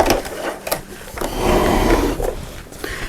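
A sewing machine runs a short back stitch on a drawstring bag, a brief whirring burst with clicking needle strokes, close and alone.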